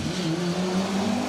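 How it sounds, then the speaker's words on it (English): A Triumph TR7 V8 rally car at a Lincolnshire Wolds stage rally roars past with a steady, loud V8 note, engine pitch sliding gently over a brief pass with no talk. "bringing all of the V8 soundtrack to the Lincolnshire Wolds this afternoon"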